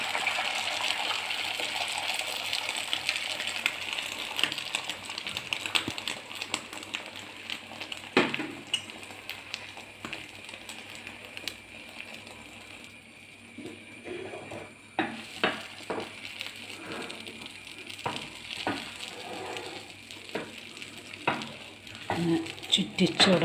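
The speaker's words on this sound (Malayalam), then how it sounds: "മുട്ട പാനിലേക്ക് ഒഴിച്ച് കൊടുക്കാം" Beaten egg poured into a hot pan for egg chilli, sizzling and frying steadily with stirring and scraping, loud and close, with brief clinks and a faint voice at times.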